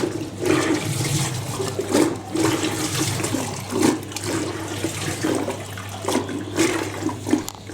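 Water sloshes and rushes inside a 1980s Ariston spin dryer during a rinse, with a continuous churning flow and recurring surges that swell and fade over several seconds.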